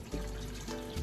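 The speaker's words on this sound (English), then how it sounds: "Now to this, I'm gonna add some water." Water pours into a pan of roasted poblano peppers, giving a short, close, continuous splashing trickle with slight surges, with no talking over it.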